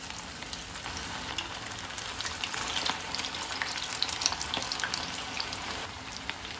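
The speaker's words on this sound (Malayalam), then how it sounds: "ആ ഉള്ളി വറുത്ത ഓയിലില്ലേ അതിൽ തന്നെ നമുക്കിടാം ഹൈ ഫ്ലെയിമിൽ വെച്ചിരിക്കുകയാണ്" Continuous crackling sizzle of chicken pieces for chicken 65 frying in hot oil over high flame, with scattered pops over a steady hiss, fairly faint and close.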